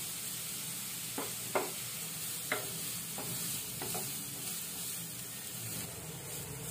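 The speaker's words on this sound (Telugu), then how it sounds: "ఇందులో మనం తురిమి పెట్టుకున్న క్యారెట్ ని వేసుకుంటున్నాము." Grated carrot frying in ghee for a jaggery carrot-coconut laddu gives a steady, close sizzle with a few soft stirring scrapes rising above the hiss.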